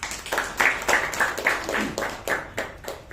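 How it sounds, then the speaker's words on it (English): A small group at a Toastmasters club meeting claps at a brisk, fairly even rhythm, individual claps distinct rather than a roaring crowd, with no talking. "A huge round of applause to the speaker and the evaluator."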